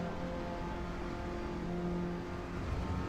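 A heavy car's engine in Assetto Corsa EVO drones and revs at a steady, fairly quiet level, its tone holding with slight pitch shifts over a few seconds, no voices.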